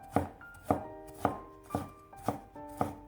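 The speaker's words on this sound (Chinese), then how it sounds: "一块生姜先切成薄片，再改刀切成细丝。" A kitchen knife chops a piece of fresh ginger into thin slices and then fine strips, six crisp, evenly spaced cuts against a board, close and clear with no talking.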